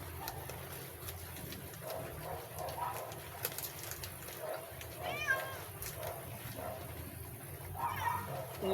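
A cat begging for food gives two short, rising meows a few seconds apart, fairly close, with quiet talk and household sounds in the background.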